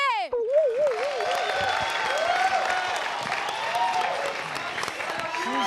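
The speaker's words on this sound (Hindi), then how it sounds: "और जोरदार तालियां हो जाए टैलेंट के खजाने जय के" Loud, sustained studio audience applause and cheering on the Zee TV dance competition show Dance India Dance, a dense roar of clapping that fills the clip while a host's amplified voice swoops and talks over it.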